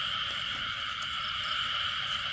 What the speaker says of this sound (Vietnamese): Ếch đực